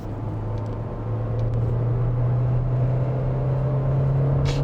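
A 2024 KGM Actyon S9 accelerates in sport drive mode, a steady engine drone with a low hum that rises and holds, heard from inside the cabin.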